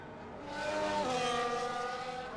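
Formula 1 cars in the F1 24 racing game at Circuit of the Americas, heard onboard from the third-place car as it corners: a loud, steady engine whine that swells, then drops in pitch as it shifts down, with no talk.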